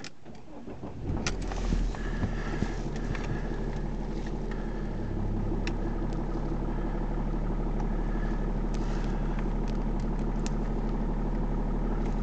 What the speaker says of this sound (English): Just start the car up.